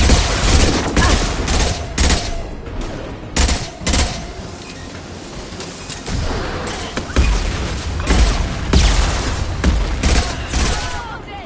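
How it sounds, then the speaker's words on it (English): Gunfire in Mass Effect Legendary Edition, including high-impact shots, heard as loud repeated blasts and booms through a chaotic battle mix, close and sustained, with no talk. "Firing a high-impact shot."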